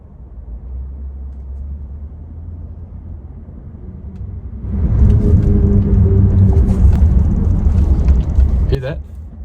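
A Ford F-150 pickup drivetrain in four-wheel drive high gives a low rumble. It swells noticeably louder partway through, holds as a heavy droning growl, then eases off near the end.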